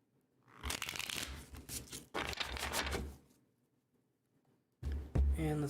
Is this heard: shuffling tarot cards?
yes